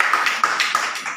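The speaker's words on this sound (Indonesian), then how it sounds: "kita berikan aplaus untuk kelompok 2" A classroom group gives a short round of applause for group 2, with three or four sharp, evenly spaced claps ringing out close and fairly loud.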